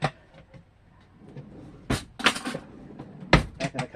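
A cutlery drawer or cupboard in a Jayco Eagle camper trailer bangs shut with a few sharp knocks and rattles, one near the start, then clustered thumps in the second half, close by with no talk.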